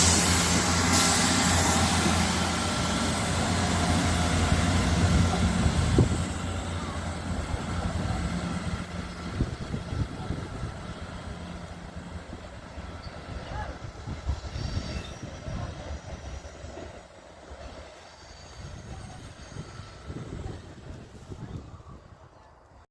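A South Western Railway Class 158 diesel unit, 158888, passes on a service from Southampton Central to Salisbury, with a loud close roar at first, then a rumble and wheel clatter that fade gradually as it moves away.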